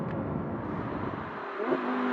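A 2016 Audi R8 V10 Plus engine revs, a smooth rising whir that climbs near the end, heard without talk.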